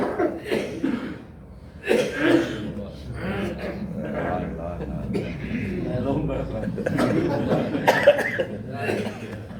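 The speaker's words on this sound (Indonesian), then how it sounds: "Batuknya yang unik nanti direkam kemudian dikasih hadiah." An audience in a hotel prayer room coughs repeatedly, with several distinct coughs scattered among murmurs, chuckles and breathy sounds, close and irregular, under a room full of people.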